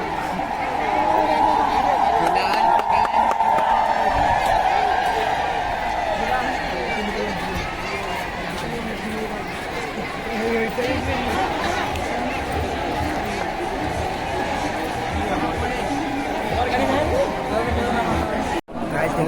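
Dense crowd chatter and babble fill a busy outdoor local gathering in a Sambalpuri block awaiting VK Pandian, a steady, close hubbub with voices talking throughout.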